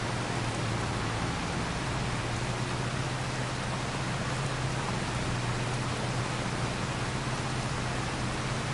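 Rain falls in the video game Farming Simulator 25 as a constant, dense, uniform hiss with a low steady hum underneath, unbroken throughout and with no voices.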